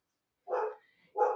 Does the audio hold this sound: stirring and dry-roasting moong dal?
no